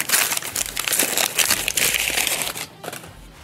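Protective paper packaging of an OLAES trauma dressing being torn open by hand: close, continuous crinkling and ripping for about two and a half seconds, then quieter rustling as it settles.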